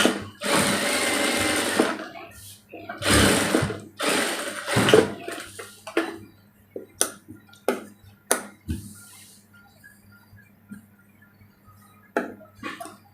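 A sewing machine stitches a kameez neckline in several short bursts of rapid mechanical whirring, loud and close, separated by pauses with light clicks and handling sounds.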